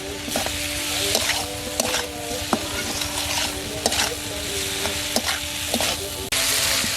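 Tomatoes with turmeric and chili sauté in a pan for a village-style dish, giving a steady close sizzle and frying hiss broken by repeated scraping stirs of a spoon.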